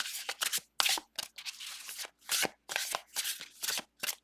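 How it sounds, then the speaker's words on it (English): A deck of matte playing cards is shuffled in quick riffling bursts, a soft papery shushing repeated in a steady rhythm, close and clear. "the shush shush when you shuffle this way"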